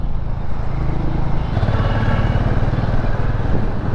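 A Hero Mavrick 440 motorcycle engine pulls steadily at low revs in fourth gear while riding, a loud continuous rumbling drone with wind noise throughout.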